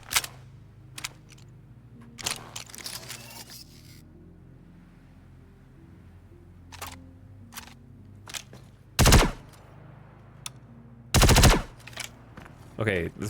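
Weapon fire in the Star Citizen video game, scattered sharp gunshots, mostly single cracks with two longer bursts of automatic fire, over a low steady hum with a voice speaking briefly.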